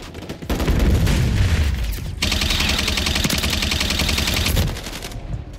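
Loud, sustained automatic gunfire in Call of Duty, crossed with Gundam: rapid rattling bursts and booming blasts that run almost without a break for about four seconds, then fade, with no voices.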